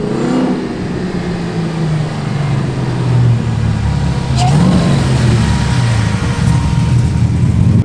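A supercharged LS3 V8 swapped into a BMW E36 rumbles and revs up on a dyno, a loud, close, droning engine note that climbs and holds steady, with people talking faintly in the background.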